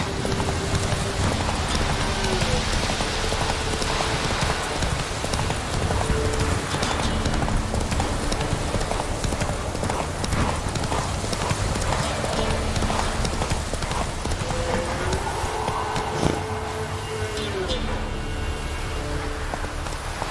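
Horse hooves clip-clop in a steady galloping rhythm, close and continuous, in The Witcher 3: Wild Hunt, with light rain and a brief whinny in the game's soundscape.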